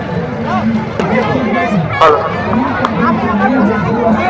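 A dense crowd at a Meena Bazaar village fair in Jharkhand, with steady hubbub of many overlapping voices and chatter close around, one brief louder burst near the middle.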